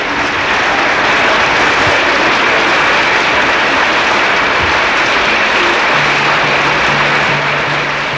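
Concert audience at Hunter College applauding a violinist and a conductor after a performance; dense, steady applause fills the hall throughout, loud and continuous with no talk over it.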